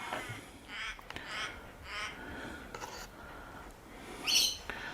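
Several crows caw in a series of harsh, separated calls, some near and some farther off, with a louder, sharper call close to the end, outdoors with no voices.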